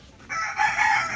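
A short, close crow from a rooster, loud and sustained after a brief lead-in, with no speech.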